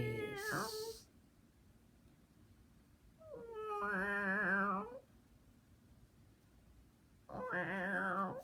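A person's voice imitates a suffering cat, giving two long, wavering, drawn-out meows with a short yelp at the start, each loud and close with quiet pauses between.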